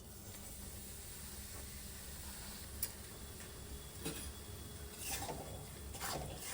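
Ground mung dal frying in hot ghee in a wok, a faint steady sizzle and hiss with a few soft stirring scrapes and small clicks, quiet and without speech.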